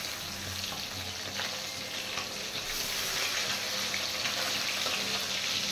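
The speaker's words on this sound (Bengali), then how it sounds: "মাছগুলো বেশি কড়া ভাজবো না, হালকা একটু ভেজে নামিয়ে দেবো।" Pieces of kalibaus fish fry lightly in a pan, producing a steady close sizzle with occasional soft stirring and scraping sounds that grows a little louder toward the end.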